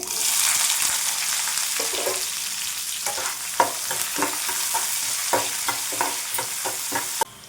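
Sliced onions, garlic cloves, chana dal and urad dal frying in oil for an ivy gourd curry, with a loud continuous sizzle and repeated spatula scrapes and taps against the pan, close up, ending with an abrupt stop.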